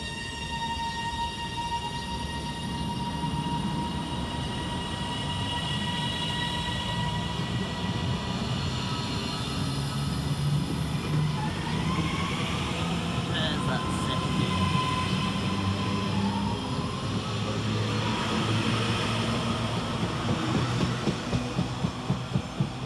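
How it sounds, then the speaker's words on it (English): Class 397 TransPennine Express unit pulling through Lockerbie station on a Liverpool Lime Street to Glasgow Central service, a steady broad rumble of a passing electric train with squealing tonal whine and rhythmic wheel clatter building toward the end. "we have 397010 working the 1029 Transpennine Express service from Liverpool Lime Street through to Glasgow Central"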